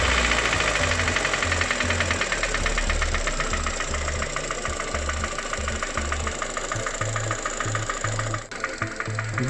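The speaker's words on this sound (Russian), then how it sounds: "Двигатель работает с посторонними шумами." The B12D2 engine of a Ravon R2 / Chevrolet Spark idles with an abnormal, steady ticking and knocking from the motor, recorded close and continuous, with no speech.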